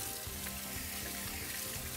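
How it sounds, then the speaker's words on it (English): Hands being washed under a running kitchen tap, a steady close rush of water with light splashing, brief and fairly quiet. "Wash my hands."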